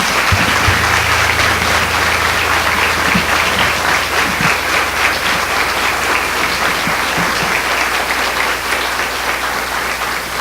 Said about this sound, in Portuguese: Você pode dar uma salva de palmas a Cristo Jesus?